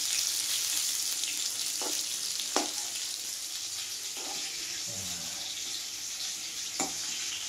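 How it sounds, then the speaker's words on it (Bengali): Potatoes fry in hot oil in a pan with a constant bright hiss of sizzling, broken by a few brief clinks and scrapes, heard up close at moderate loudness. "প্রথমে আমি আলুটাকে ভাজবো।"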